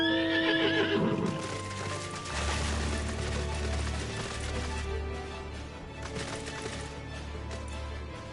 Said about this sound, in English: I'm gonna test the new mount I got at Ralgar's Reach. Cause it said it was like a heavenly horse.